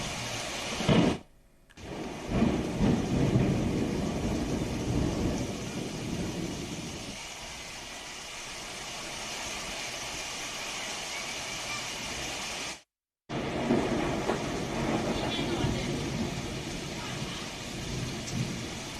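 Heavy rain and thunder over Hyderabad, Telangana: a loud, steady downpour hisses throughout, with deep rolling thunder strongest in the first several seconds. The sound is interrupted by two brief silent cuts.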